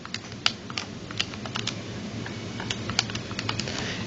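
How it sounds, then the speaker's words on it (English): Numbers are tapped into a calculator in quick irregular clicks. They sound close and fairly light, with no talking. "Type that into your calculator."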